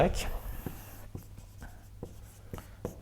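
Pen or chalk strokes tap and scratch in short, evenly spaced marks as formulas go up during a lecture on functions of several variables, heard under a lecturer's speaking voice.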